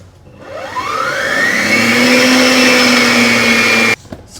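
Electric mixer beating chocolate into an egg mixture for brownies, a steady loud whirring hum that rises in pitch as it spins up over the first second, holds evenly for about three seconds, then cuts off abruptly.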